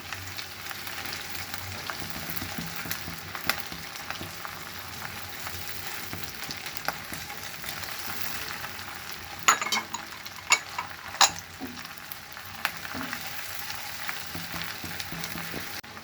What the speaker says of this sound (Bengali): পেঁয়াজ ভাজা হয়ে গিয়েছে, এখন আমি চিংড়িগুলো দিয়ে দিচ্ছি। চিংড়িগুলো একটু হালকা ভেজে নেব।